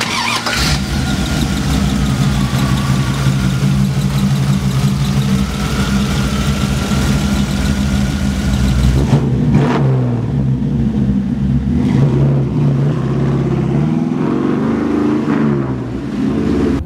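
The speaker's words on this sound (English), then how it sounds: "All right, let's take this Royal Purple Camaro for a ride." A customized 1969 Chevrolet Camaro convertible restomod with a 5-speed, its engine running loud and close with a steady idle rumble, then revving and settling back through several throttle blips.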